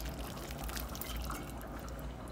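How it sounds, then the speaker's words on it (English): Hot water boiled with lime zest being poured into a pot of Haitian-style stew hen, a steady close splashing gush of liquid throughout, without any talk. "I'm going to go ahead and pour some hot water that I boiled."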